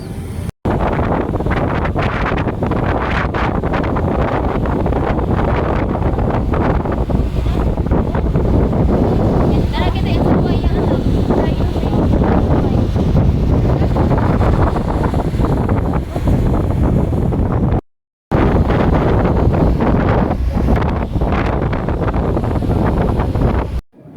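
Strong wind roars across the open upper deck of a 2GO passenger ship sailing from Butuan to Manila, loud and unbroken buffeting that drops out for a moment and then returns, with no voices.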